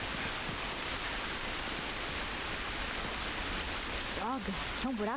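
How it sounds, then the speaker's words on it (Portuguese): Steady rain in the video game The Last of Us, a constant hissing wash of falling water filling the scene, with a brief voice breaking in near the end. "Cara, chove, hein?"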